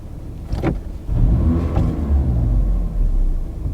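A steady low engine rumble idles throughout, with a couple of brief mechanical whirs near the start and middle.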